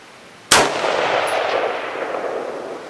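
A single rifle gunshot cracks out loud and close, its sharp report followed by a long rolling echo that slowly fades over the next two seconds, with no talking.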